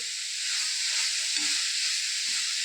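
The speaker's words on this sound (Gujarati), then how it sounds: "બહુ નીચે બેસવા નહીં દેવાનું ફેરવતું રહેવું પડે વચ્ચે વચ્ચે" Grated carrot halwa is stirred in a pan, a steady close sizzle and hiss that runs throughout with a few soft scraping touches underneath, with no one talking.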